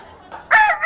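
A person vocally imitates a rooster's cock-a-doodle-doo crow at a local talent event: one short, loud, close call that rises sharply after a quieter lead-in.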